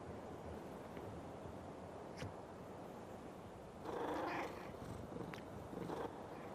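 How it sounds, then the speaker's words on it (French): A cat purrs softly in the Monster Hunter Stories 2 video game, a low steady rumble under a wash of ambient game sound that swells midway, with a few faint ticks. "Oui, un chat."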